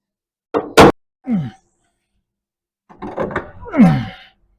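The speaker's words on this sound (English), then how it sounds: "I'll hammer and dolly that." Several sharp metallic whacks ring out as a hammer and dolly beat a 1933 Chevy rear fender, a few separate blows followed by a pause and then a busier cluster of strikes with a low voiced groan.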